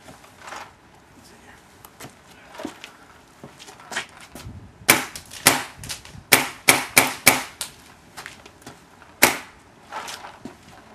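A series of sharp airsoft gun pops from an Ego 11 and a Cyborg RX, first faint and sparse, then louder shots in a quick cluster, with quiet background noise between.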